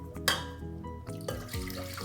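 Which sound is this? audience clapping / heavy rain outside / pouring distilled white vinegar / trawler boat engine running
pouring distilled white vinegar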